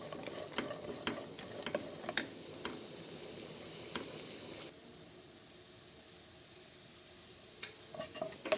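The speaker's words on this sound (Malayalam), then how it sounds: "ഇത് ക്യാരറ്റും ക്യാപ്സിക്കും വഴറ്റിയിട്ട് ആയി." Carrots and capsicum sautéing in a pan with a bright continuous sizzle and a steady run of spatula ticks against the metal; the hiss drops to a quieter sputter halfway through, with no one talking.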